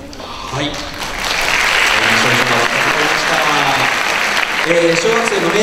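Hall applause rises from a 2012 annular eclipse forum audience during an asteroid-naming certificate presentation. Full, continuous clapping swells after a brief start and carries on with voices faintly audible underneath.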